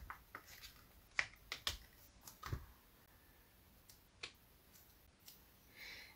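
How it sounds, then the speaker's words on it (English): Rubber stamps press shark images onto paper for a handmade card, giving a handful of soft, scattered taps and clicks at uneven intervals in a quiet room. "I'm going to go ahead and stamp all these sharks"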